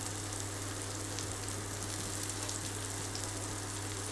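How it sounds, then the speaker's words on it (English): Meatballs sizzle in a frying pan, a soft, steady crackling hiss that stays even throughout with no voices. "Can you hear the sizzle?"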